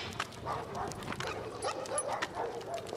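Several dogs bark and yip at a distance, scattered and overlapping, against an outdoor background.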